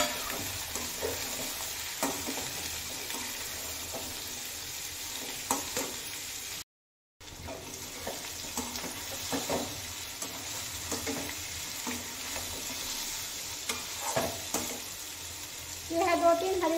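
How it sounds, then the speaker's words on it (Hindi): Potatoes, carrots and capsicum fry together in a pan, a soft continuous sizzle with occasional stirring scrapes, fairly quiet and close, briefly cutting out partway before resuming, with a clatter near the end. "सबको मिला के फ्राई कीजिए"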